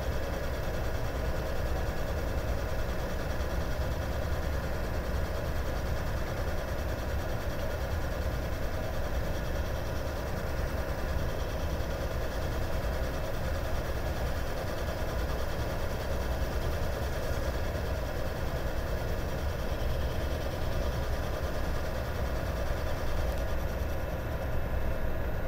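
A Taig lathe turns stock under power feed with a steady, continuous mechanical whir and hum that keeps an even level throughout, with no voices.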